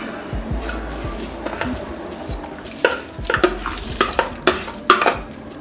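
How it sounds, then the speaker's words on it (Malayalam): Rice being stirred into a pot of boiling water for chicken biryani, with soft scraping and clinking strokes of a spoon against the pot that grow louder and more frequent toward the end, over a low bubbling bed. "റൈസ് ആഡ് ചെയ്ത് ഇനി കുറച്ചങ്ങ് ഇളക്കി കൊടുക്കാം"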